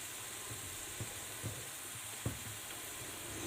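Green and red chilies and sliced celery stir-frying in a pan for dinuguan, a soft steady sizzle with a few light scrapes of the spatula and no talking.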